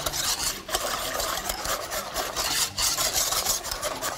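A spoon stirs thickening Arabic starch pudding in a pot, making continuous close scraping and rubbing strokes with a steady rhythm and brief pauses; no voices.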